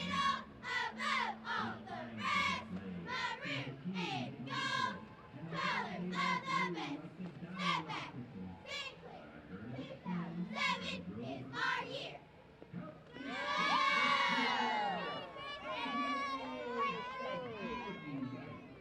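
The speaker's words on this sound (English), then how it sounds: "So they're going to stop right here and give us a cheer." Elkhorn Middle School cheerleaders performing a cheer at a Christmas parade: a group of young girls' voices shouting rhythmic chanted lines in unison, ending in a loud burst of cheering and shrieks.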